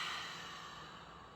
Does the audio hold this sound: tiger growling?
no